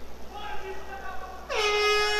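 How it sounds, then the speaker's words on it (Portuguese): A loud air horn sounds at the end of the first round of a grappling match at an X1 Kombat event, a sustained blast starting partway through and holding steady after quieter crowd and commentary noise. "Antes de eu comentar, soa a buzina."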